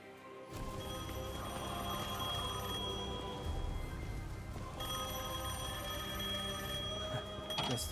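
An old telephone rings in Devil May Cry 5, a steady trilling bell that repeats in two long bursts over game ambience.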